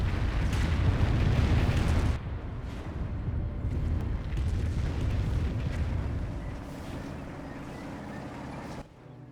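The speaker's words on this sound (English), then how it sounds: "We've got another Calliope rocket barrage." Calliope rocket barrage explosions in Company of Heroes, a World War II strategy game: dense, continuous rumbling blasts and bursts that roll on for several seconds, loud and heavy, then cut off abruptly.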